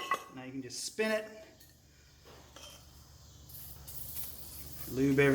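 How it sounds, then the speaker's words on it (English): Cutting oil lubricant sprayed onto lug stud work on a Jeep FSJ Cherokee Chief during drilling, giving a few close hissing bursts between spells of quieter background noise. "Just kind of spray that, spray this, make sure everything's good and lubricated."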